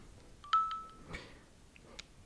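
A short ringing alert chirps from AirPods 4 ANC earbuds, a brief two-tone electronic beep followed by a steady tone, then a few faint scattered clicks and blips, quiet and close in a calm room.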